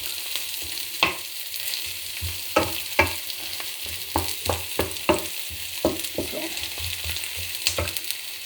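Vegetables sizzle in a hot pan with garlic and onion, a constant frying hiss broken by irregular scraping stirs of a utensil, close up and without speech.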